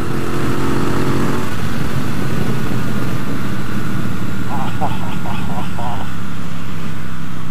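A 2017 Triumph Bobber motorcycle engine accelerating hard, a loud, close roar rising in pitch beneath heavy wind buffeting, as from a rider-mounted position, with a brief burst of speech-like tones partway through.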